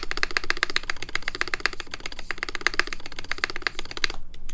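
Rapid, continuous typing on a mechanical keyboard with stabilizers, a close, dense clatter of keystrokes running for several seconds before a brief pause, with no talk.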